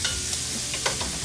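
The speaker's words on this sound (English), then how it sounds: "So I'm just gonna cook the bacon down." Bacon sizzles in a pot as the base for corn chowder, a short burst of steady frying hiss with a few crisp pops, close and without voices.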